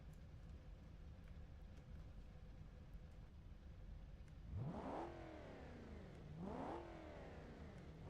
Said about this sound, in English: Shouldn't the engine sound be rough the same since the firing order doesn't change?